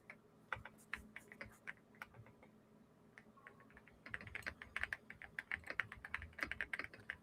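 Computer keyboard typing, quiet and fairly close, with scattered sparse keystrokes at first and then a denser, faster burst of clicks toward the end.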